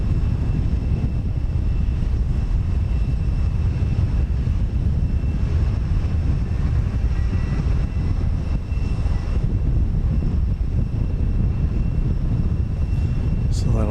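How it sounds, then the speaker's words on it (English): An Avianca Airbus A320 jet airliner bound for San Salvador at Houston Intercontinental, heard as a steady, moderately loud engine roar with a faint whine that holds throughout. "Flight 367 going to San Salvador in Airbus A320."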